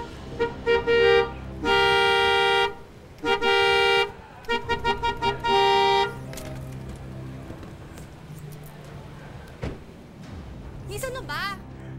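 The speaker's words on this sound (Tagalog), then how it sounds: "Hindi mo ba narinig yung busina ko?" A car horn honks repeatedly in a mix of short and longer blasts, loud and close, then gives way to quieter street background with voices.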